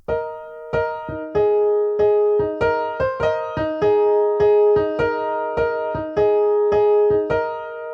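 Solo piano plays the outro of a song, a short repeating phrase of clear struck notes and chords at a moderate, steady pace, close and alone.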